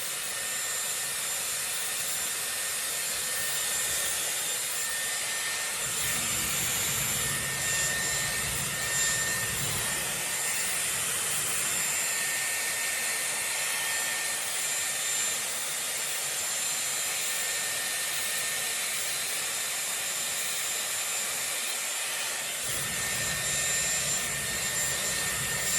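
A Dyson Airwrap round brush attachment blow-drying sections of hair, a steady close whooshing airflow hum running continuously throughout with slight variations in tone as the brush moves, no talking.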